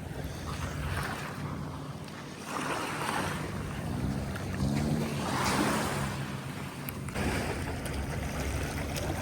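A Thai long-tail boat engine droning steadily over rushing water and wind noise, with no talking.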